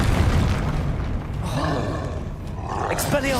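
A Confringo blasting spell explodes in Hogwarts Legacy, a dense roaring boom that swells and rumbles for a few seconds, with a voice speaking over it during gameplay.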